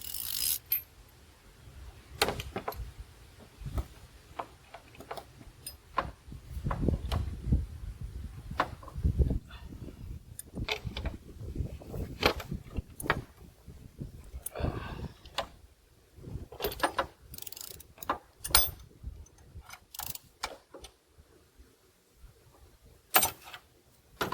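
A ratchet loosens an injector cup on an OBS Ford 7.3 Power Stroke diesel, cylinder one, with repeated close clicking pawl strokes in bursts, interspersed with metallic knocks and handling noises, no talking.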